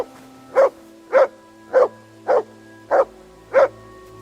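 A dog named Mutts barks in the medieval video game Kingdom Come: Deliverance 2, giving six evenly spaced, loud, close barks about half a second apart over faint game ambience and with no talking.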